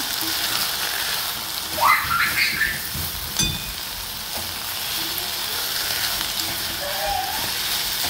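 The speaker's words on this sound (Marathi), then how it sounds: "आता यात मी मेथीची भाजी घालते। ही भाजी छान हलवून घेऊ आपण।" Fenugreek leaves (methi) stir-frying in a hot pan, a steady close sizzle and hiss with brief scraping swishes of stirring and a sharp tap partway through, and no one speaking.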